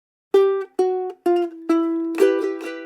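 A ukulele plays the chorus of a song, five separate strummed chords ringing out in turn with short gaps, the last two running together, close and clear with no voices.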